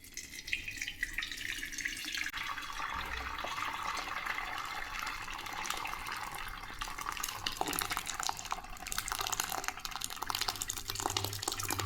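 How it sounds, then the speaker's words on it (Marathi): A steady, loud rush of curdled milk pouring into a cloth strainer for several seconds, splashing continuously without pause, with no voices. "याच्यामध्ये आता मी ही पनीर ओतून घेते"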